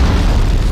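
A grenade explosion in the PlayStation game Medal of Honor: a single short, loud, booming burst with a heavy low-end rumble, heard alone.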